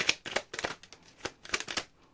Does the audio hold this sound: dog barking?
no